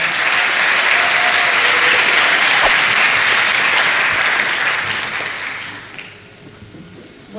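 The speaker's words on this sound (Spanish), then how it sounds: "Un aplauso para ellos, por favor." Loud audience applause at the Manizales International Film Fair, a thick wash of clapping that holds strong for about five seconds, then thins and fades toward the end.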